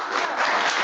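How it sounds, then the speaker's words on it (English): Applause from a live audience at a real estate investor gathering, steady dense clapping filling the short moment without pause, moderately loud and fairly close. "Hear those claps for Wayne."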